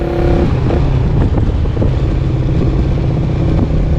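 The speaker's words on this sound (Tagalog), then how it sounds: "At ayun, dalawang motor sa unahan." Steady loud engine roar of motorcycles riding ahead on a road, heard from a moving vehicle with heavy wind noise buffeting the microphone throughout.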